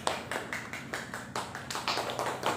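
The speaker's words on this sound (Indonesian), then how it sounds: "Silakan tepuk tangan teman-temannya." Students in a classroom clap together in a quiet, fairly steady patter of rapid claps, heard from a short distance with no talk over it.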